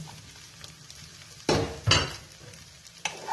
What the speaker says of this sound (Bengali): পাউরুটিটাকে একটু ভালো করে ভেজে নিতে হবে বাদামটা ভাজা হয়ে যাবে পাউরুটিটাও ভাজা হয়ে যাবে